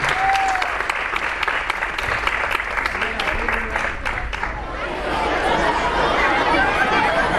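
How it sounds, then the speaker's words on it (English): Sustained applause from an audience at a 4th and 5th grade band and strings concert, a dense steady clapping that fills the whole stretch, with some crowd chatter mixed in. "Another round of applause for our amazing players and Ms. Young."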